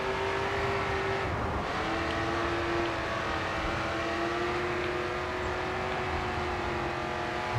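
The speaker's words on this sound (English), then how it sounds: "apparently that's where the rev limiter is at the red line" A race car engine in the video game GRID 2 is held at the red-line rev limiter, producing a steady, buzzing whine with a brief dip early on. It drones on loud and alone, with no talk over it.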